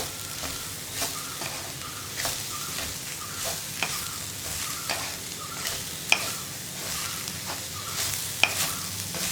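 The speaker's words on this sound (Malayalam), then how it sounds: "ഇതെല്ലാം ചേർത്ത് വീണ്ടും നന്നായിട്ട് ഇളക്കുക" Chopped spring onion stalks for a Kerala thoran are stirred in a hot pan, a soft sizzle broken by a regular series of spatula scrapes and taps roughly every half second, with no one talking.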